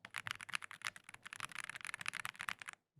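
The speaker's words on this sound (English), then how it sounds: "You get that real nice thocky sound here. I'll even give you guys a sample." A mechanical keyboard with painter's tape on it gives a deep, thocky clatter as it is typed on quickly and steadily, the keystrokes close and distinct until they stop just before the end.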